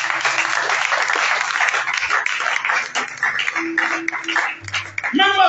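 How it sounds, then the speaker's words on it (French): A church congregation applauds during a French-language sermon on walking by the Holy Spirit, with steady, dense clapping filling the space for several seconds, mixed with scattered voices and cheers and a rising shout near the end. "Quelqu'un va acclamer, on va aller voir."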